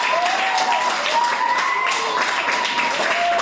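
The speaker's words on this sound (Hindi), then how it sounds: "तो सभी जोर से ताली बजाएंगे भी" Children in a primary school classroom in Rajgarh Sadar, Pratapgarh, Uttar Pradesh clap together after a poem, a brisk, even patter of many small hands held for a few seconds, with a voice faintly over it.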